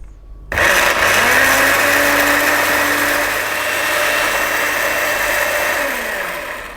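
A blender whizzes green chutney ingredients into a paste, starting abruptly and running loud and steady as a high motor whine, its pitch shifting slightly as the mixture loosens, then easing down near the end.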